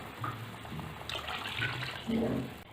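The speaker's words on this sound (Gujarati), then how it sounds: "સાથે આપણે પાણી પણ ઉમેરીશું।" Water pours into a cooking pot of broken wheat lapsi that already holds milk, giving a brief splashing fill sound at moderate level, with faint kitchen background.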